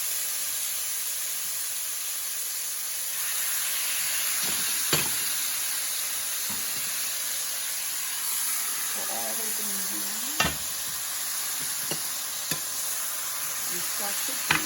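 Chicken bulgogi meat and vegetables stir-fry in a pan with a steady, soft sizzle and hiss, broken by occasional sharp clinks and scrapes of a utensil against the pan; quiet and close throughout.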